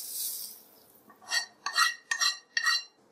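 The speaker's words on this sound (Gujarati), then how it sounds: "આ રીતે કરવાથી બધો મસાલો પ્રોપર મિક્સ થઈ જશે" A spoon stirring hot tempering of curry leaves and sesame seeds into a spice mixture for a Gujarati snack, four distinct scraping clinks against the bowl in quick succession, close and clear.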